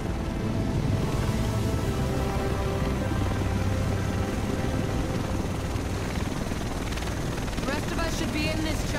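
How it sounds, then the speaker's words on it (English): Helicopter arriving in the video game Tom Clancy's The Division, a loud steady rotor and engine roar filling the whole clip, with game voices talking over it. "Should be in this chopper."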